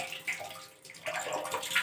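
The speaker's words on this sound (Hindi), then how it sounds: "ये पानी गिर रहा है नल में से, टंकी का" Water from a tank-fed tap splashes steadily into a basin at low level, a continuous hissing, gurgling pour with no speech.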